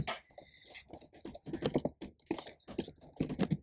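Close, brisk typing on a computer keyboard while working in a terminal on a MacOS M1/M2 machine: a quick cluster of clicky keystrokes with short pauses between bursts, and no speech.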